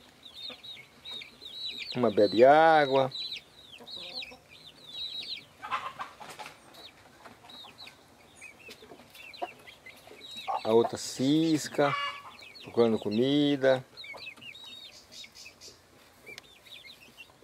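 Farmyard chickens cluck softly while scratching for food and drinking on a hot day, with a rooster present; someone talks in short bursts over the quiet, intermittent clucking.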